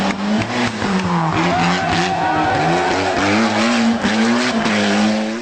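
A race car drifts with its tires skidding and squealing in a loud, sustained screech, the engine note wavering underneath throughout.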